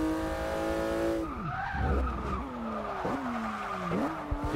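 Locked tires skidding under full braking without ABS on a race car in Forza Motorsport 6, a long loud squeal with a falling engine note, then several shorter screeching tire chirps in an irregular rhythm.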